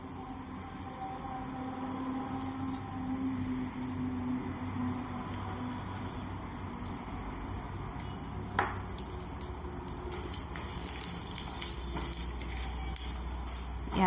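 Cumin, a broken dried red chili, black pepper and coriander seeds sautéing in a pan, a steady soft sizzle with occasional spoon scrapes and clinks, close and continuous without talk.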